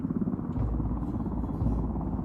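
A helicopter in a video game, a steady low rotor drone and engine rumble holding at constant loudness throughout with no talk over it.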